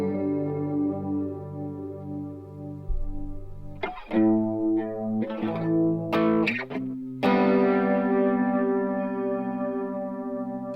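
Guitar through a Chase Bliss Lost and Found multi-effects pedal on its Ensemble Expander setting, sustained chords with a thick chorused, detuned shimmer, new notes entering in distinct stages and ringing out, no talk.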